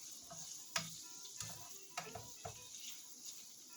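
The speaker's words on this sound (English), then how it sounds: "Get that garlic in there. Stir it up in there." Garlic stirred in a hot pan for shrimp scampi, a faint steady sizzle broken by a few sharp scraping clicks of the utensil against the pan at irregular intervals.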